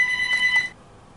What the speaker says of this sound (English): Sorry about the phone ringing there.